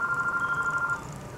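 A telephone rings with a short electronic warbling tone, close and clear for about a second before cutting off, no speech.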